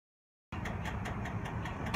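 Car engine idling at a gas station during refueling, a steady mid-pitched rumble with light regular ticking, close and alone after a half-second of silence.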